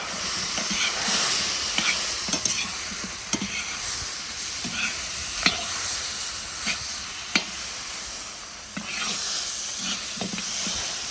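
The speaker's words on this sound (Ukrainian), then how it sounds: "І перемішуємо." Food being stirred in a cauldron with spicy seasoning and steak going into a stuffed pumpkin dish: steady sizzling and hissing with repeated scraping strokes and clinks, fairly close, no talk.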